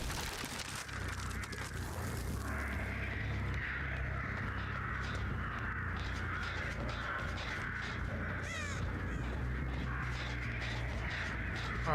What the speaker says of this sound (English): Maybe it was all those crows.